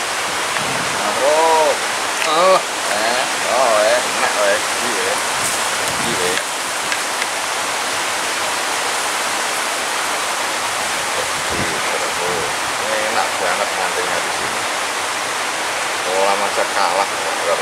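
A small stream or narrow ditch of flowing water runs steadily and fairly loud for the whole stretch, a broad continuous rush with voices talking over it early on.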